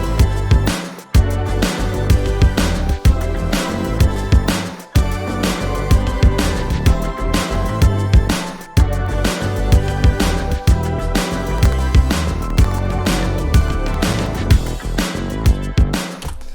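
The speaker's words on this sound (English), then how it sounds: "Added another kind of top line with the brass around here" A brass top line rides over a dense, loud 80s-style beat with synth layers and punchy drums. The groove runs continuously with brief drop-outs on the downbeats, and there is no talking.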